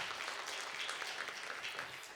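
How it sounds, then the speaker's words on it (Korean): Congregation applause inside a church during a Friday night healing service, a dense, steady clapping that holds evenly for a couple of seconds and tapers slightly at the end, with no voices over it. "하나님께 영광의 박수 올리도록 하겠습니다."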